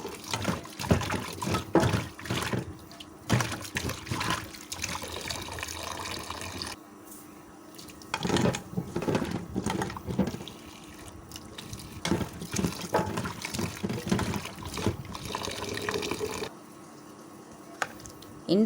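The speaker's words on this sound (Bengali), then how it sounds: "এখন আমি পুঁই ডাঁটাও কাঠি কুচিগুলো ধুয়ে নিচ্ছি" Malabar spinach stalks and taro pieces are rinsed under a running kitchen tap, with splashing water that flows in bursts, broken by short quiet pauses as the vegetables are handled.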